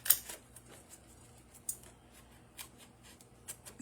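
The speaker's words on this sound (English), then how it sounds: "So I'm hand cutting the centerpiece" Scissors snipping by hand through a quilt design card to trim out a centerpiece, a string of small crisp cuts and paper rustles at close range, irregular in rhythm and fairly soft.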